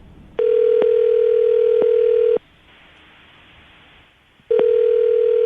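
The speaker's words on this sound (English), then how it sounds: "I'm going to dial the phone right now, see if we can get him on the phone" A telephone dial tone hums loudly and steadily for about two seconds as a radio host places a call on a morning show, cuts to a quiet hiss, then returns.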